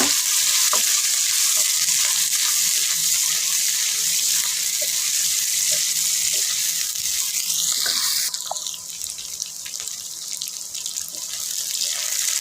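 Cubed onion and black pepper frying in a pan for a Chinese-style vegetable dish, a steady close sizzle with light stirring scrapes throughout, no talking.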